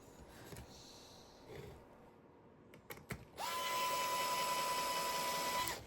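Electric screwdriver driving screws during assembly of a tippy marble clock, a short quiet buzz and clicks followed by a louder sustained whine with a steady tone, close by.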